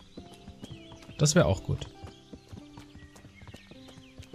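A horse ridden at a walk in the video game Kingdom Come Deliverance gives a steady, even clip-clop of hooves with a brief snort or whinny, while someone speaks German over it.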